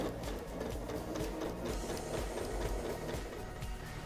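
A sewing machine stitches the base into a yoga bag, a quiet rapid rhythmic mechanical clatter running steadily throughout.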